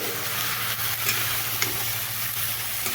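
Bottle gourd is stirred into lentils in a hot pan, giving a constant loud sizzle and bubbling with light scraping strokes from the spoon, close and continuous.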